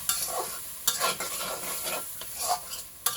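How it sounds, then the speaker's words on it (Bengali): Chili and turmeric powder are stirred in a hot frying pan for a beef and taro dish. A spoon scrapes the pan in several distinct strokes over a low, continuous sizzle. "এবং মশলা ভালো করে নাড়তে হবে"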